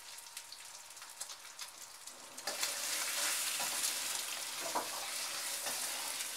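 Mushrooms and egg frying in a pan, sizzling steadily and close, growing louder and denser partway through as more goes into the hot oil.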